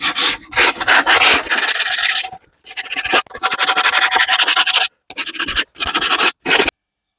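Hand sanding cleans up saw cuts on a small scrap-wood box with splined mitres: loud, close, raspy back-and-forth strokes in bursts, separated by short pauses.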